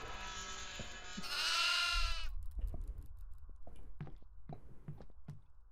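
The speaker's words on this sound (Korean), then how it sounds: "염소가 있네?" A goat in the horror game Devour lets out a loud, wavering bleat, followed by scattered footsteps and soft thumps in a quiet room.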